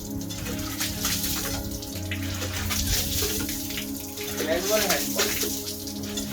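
Floodwater during the 2022 Balochistan floods flowing steadily in a continuous rushing wash under a voice, with a low engine-like hum underneath.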